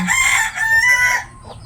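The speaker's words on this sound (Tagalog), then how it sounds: "Maingay ang aso, maingay ang manok." A rooster crows loudly and close by in a rural province setting, one long strained cock-a-doodle-doo that trails off, followed by a softer cluck.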